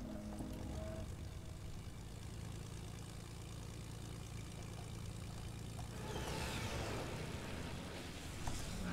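A propeller airplane flies in a video game, its engine giving a steady, continuous drone that builds slightly louder toward the end, with no talking.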